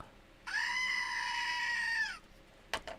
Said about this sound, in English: I've got the goat. It's very loud.